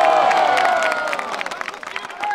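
A crowd at a KBO baseball event claps and cheers, a dense wash of applause that fades slightly over a couple of seconds, with a voice faintly over it.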